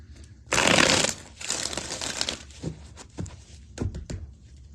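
Tarot cards are shuffled in a quick riffling burst, followed by softer shuffling, tapping and handling sounds close by.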